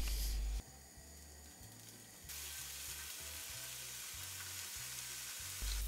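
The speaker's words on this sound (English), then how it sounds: "Now it's time to start to fry the bacon." Close, steady sizzling of bacon frying in a hot 12-inch Lodge cast iron pan, with a low electronic hum and a few shifts in the hiss level.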